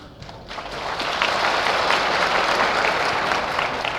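Audience at a political rally breaks into applause, starting softer and swelling into sustained, dense clapping that continues evenly to the end.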